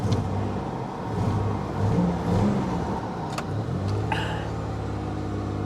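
A Toyota Celica engine idles steadily up close, a continuous mid-low hum with a brief rise in revs, heard alone without talk.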